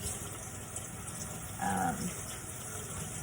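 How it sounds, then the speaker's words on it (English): A tap runs for hand washing during first aid, giving a steady, moderate hiss of flowing water with a brief louder splash partway through, under a quiet room tone. "turning on the water"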